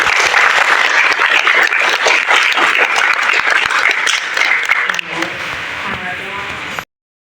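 Loud, steady applause from a crowd, dense clapping that continues for several seconds before thinning slightly and cutting off abruptly.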